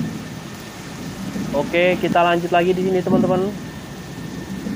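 Steady rain with thunder from the Bus Simulator Indonesia video game hisses throughout, with someone talking over it in the middle.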